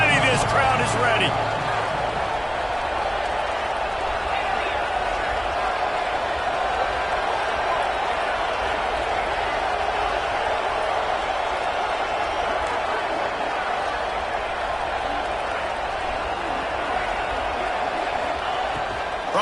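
Stadium crowd roar in the College Football 26 video game, building ahead of a third down, a dense steady wall of cheering noise holding at an even loud level throughout.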